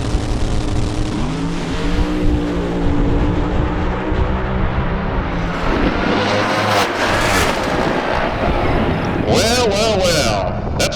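Funny car drag race at a nostalgia event, the Speed Sport and Atlas cars roaring loudly and continuously down the strip, a thick engine blast filling the air with crowd noise and voices mixed in.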